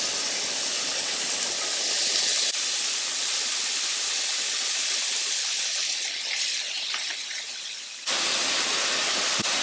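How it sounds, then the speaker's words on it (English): Shrimp searing in a hot pan previously used for sausages, a loud, dense, continuous hiss that dips briefly near the end before surging back. "Using the same pan, we're gonna add our shrimp."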